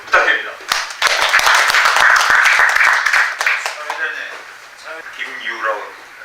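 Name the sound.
applause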